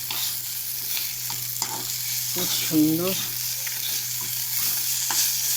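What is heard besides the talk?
frying dhela fish with salt and turmeric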